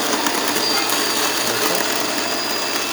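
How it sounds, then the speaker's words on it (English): A DeLonghi espresso machine's built-in grinder runs steadily up close, a continuous loud whirring buzz with a faint rattling texture, heard alone without talk. "Whenever you adjust the grinder, make sure you adjust it when it's moving."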